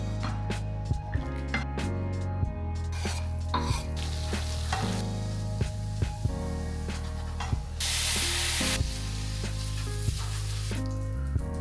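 Spaghetti with butter, garlic, salt and Cajun-style spice sizzles and fries in a pan while being stirred, a steady close hiss broken by scraping stirring strokes and a louder burst of spitting sizzle partway through.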